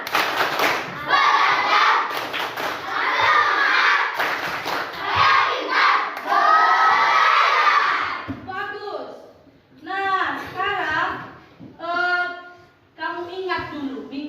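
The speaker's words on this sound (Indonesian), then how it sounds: "Coba semua, tepuk belajar." A classroom of children performs a rhythmic clapping chant, with hand claps and loud shouted voices in unison in bursts, and the teacher's voice speaks between the chanted sections.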